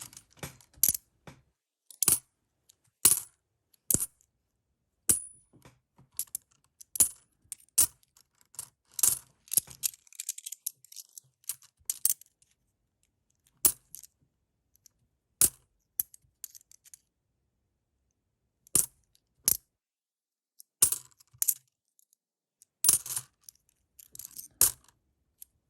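Australian twenty cent coins being handled and sorted, a sequence of sharp metallic clinks and clacks in irregular bursts separated by quiet pauses, close and clear with no talking.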